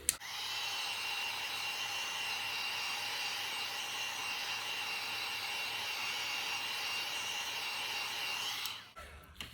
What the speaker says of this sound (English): use my heat embossing tool